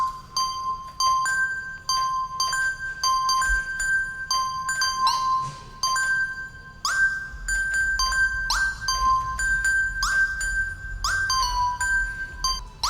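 An electronic keyboard driven by electrical signals from a wired-up mushroom: sparse, irregular bell-like notes that ping and ring out at uneven intervals, alternating between a few high pitches with no steady rhythm.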